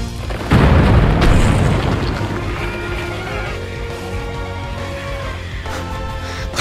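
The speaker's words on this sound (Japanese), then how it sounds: "こう爆弾によってあそこは爆破できるといったところでしょうか" In the video game Hyrule Warriors, a bomb blasts a rock with a single loud, deep boom. A long rumbling tail follows, with steady tonal game sounds continuing underneath.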